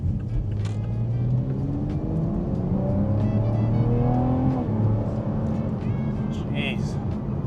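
A 2020 Toyota Supra A90 fitted with an AFE intake accelerates hard on a highway, the engine note climbing steadily through the revs in a close, loud in-cabin drone, with a person talking over it.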